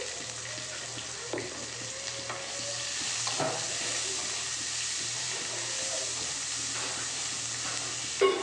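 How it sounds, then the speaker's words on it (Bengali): Peanuts, onion and green chilli fry with curry leaves in a pan for a flattened-rice pulao, producing a continuous close sizzle broken by scraping stirs and occasional clinks of the spoon. "বাদামটাকেও একটু ভেজে নিচ্ছি চলো তারপর দেখাচ্ছি আবার পেঁয়াজ আর লঙ্কাটা অ্যাড করে দিচ্ছি"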